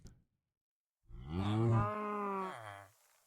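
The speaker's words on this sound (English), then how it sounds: "Baby cow? Yep, baby cow. Can you do it again right away?" A single drawn-out moo from a young calf, close and clear, rising then tapering off after a brief silence.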